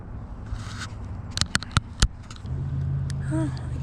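Road traffic rolls past beside a winter creek in Tennessee, a steady nearby hum of passing cars with a louder vehicle surging by toward the end, plus a few sharp clicks and rustles close by.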